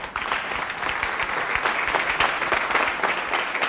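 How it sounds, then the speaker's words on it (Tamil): A steady burst of applause from an audience at a Tamil speech competition, dense clapping sustained throughout at an even, fairly loud level. "ஒரு நல்ல கைத்தட்டு கொடுத்துடலாம்"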